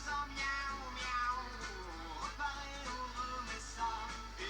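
Several short cat meows play as a livestream alert sound, close and clear over a constant low electrical hum.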